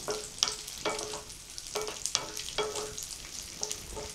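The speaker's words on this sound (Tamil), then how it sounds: "காஞ்ச திராட்சை கொஞ்சம் லைட்டாக உப்பி வர அளவுக்கு இதை வந்து நம்ம வறுத்துக்கணும்." Raisins fry in a pan with a steady sizzle and regular stirring strokes roughly every half second, close and clear, with no talk.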